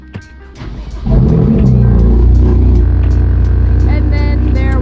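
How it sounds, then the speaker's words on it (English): BMW M2 Competition with the S55 engine doing a cold start: after a second of quiet the engine fires and settles into a loud, steady, rumbling high idle that holds to the end. "we're gonna do a little cold start in the M2."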